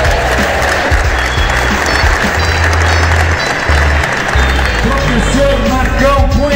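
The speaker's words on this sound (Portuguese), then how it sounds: "Um salve de palmas, professor Pará" Audience applause at a Chute Boxe martial arts gathering in Curitiba, a loud, steady wash of clapping from a crowd honoring an instructor, with low hum and some voices mixed underneath.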